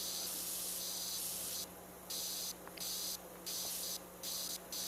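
A pressure washer in PowerWash Simulator 2 hisses in steady bursts, the spray cutting out and restarting several times in a choppy on-off rhythm.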